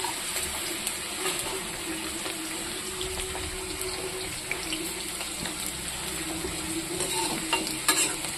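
Okra fries in a pan with a soft, continuous sizzle. Occasional light stirring clicks rise above the steady hiss, with a slightly louder clatter at the very end.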